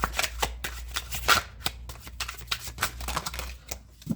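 Tarot cards are shuffled and drawn close up: a run of quick crisp riffles, snaps and flicks in an uneven rhythm, with no voices.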